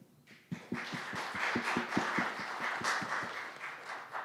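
Audience applause after a speech at a debate event, with distinct claps, some from a single person close by, repeating in a steady rhythm over a dense, moderately loud background of crowd clapping.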